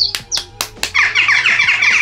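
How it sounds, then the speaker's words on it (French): Western jackdaw calls, loud and close: a run of sharp, quick downward chack notes, followed by a rapid chattering burst of higher, squeaky calls. "Le chouca des tours."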